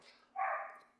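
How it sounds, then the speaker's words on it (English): A dog gives one short bark, fairly faint and on its own, with a slight fading tail and no talk over it. "this barking's wonderful"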